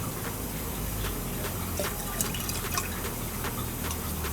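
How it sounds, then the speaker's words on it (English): Liquid boron is poured into water while mixing a trace-element solution for aquaculture, a steady quiet trickle and fill sound with faint drips and splashes throughout. "I need to add 43 ml of boron to this."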